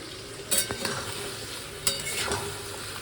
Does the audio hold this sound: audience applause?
no